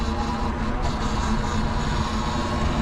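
A helicopter flying over a city street, a continuous rumbling drone with a steady low throb holding at a constant level, mixed into broad city background noise.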